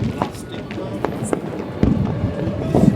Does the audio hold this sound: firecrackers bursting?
yes